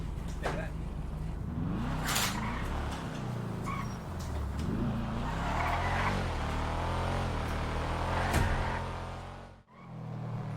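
A car engine in a video game hums and revs steadily throughout at moderate volume, with people talking over it.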